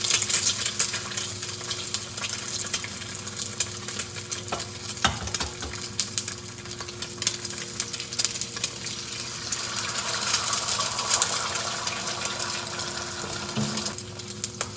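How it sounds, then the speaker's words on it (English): Eggs fry in vegetable oil in a non-stick wok on an electric stove, a steady bright sizzle with scraping, stirring clatter and a few sharper knocks throughout, close and fairly loud with no talking. "eggs going straight in"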